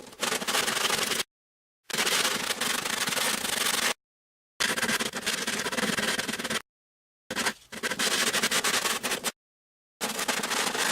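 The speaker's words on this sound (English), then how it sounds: "Now I gotta take and I gotta sand this." Hand sanding of RC airplane parts for an F-86 model, heard as close, scratchy rubbing strokes in five bursts separated by short silent pauses, with no talk.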